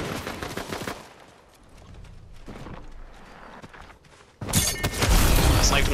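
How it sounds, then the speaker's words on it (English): Sniper rifle shots in a Fortnite match crack out sharply, with a cluster of reports at the start, quieter game noise in between, then a loud, dense burst of gunfire near the end. "I sniped him"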